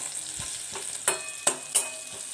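Sliced onions frying with a pinch of salt in a pan, a steady bright sizzle with a few sharp stirring scrapes standing out near the end.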